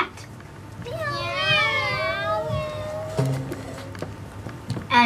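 A cat meows in a long, drawn-out wavering call, then gives a shorter second meow, fairly close and clear over quiet background noise.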